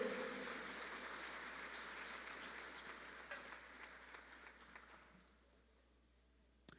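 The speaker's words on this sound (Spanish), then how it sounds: "Dele un fuerte aplauso al Señor" Congregation applauding the Lord during a Christian sermon on family crisis, a broad dense clapping wash that slowly thins and fades out near the end, leaving near quiet.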